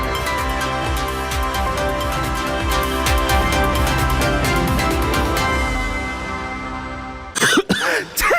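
Sustained musical tones play for several seconds, then cut off and a couple of sharp coughs follow close by.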